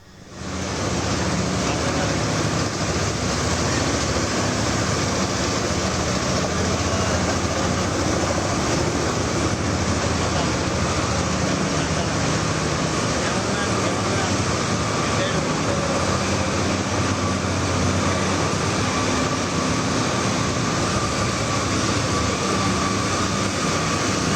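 A continuous roar of an elevated train on a trial run in Chennai, steady and loud throughout with a rushing, wave-like rumble.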